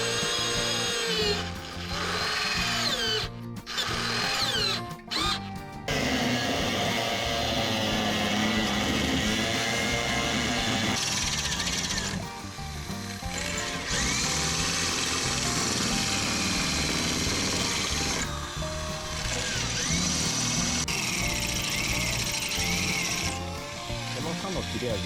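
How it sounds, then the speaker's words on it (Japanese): A power drill bores out spot welds on a car body panel in a DIY workshop, a loud grinding whir in repeated bursts with short pauses, while someone talks over it. "スポット溶接を飛ばすのはちょっと厄介です。"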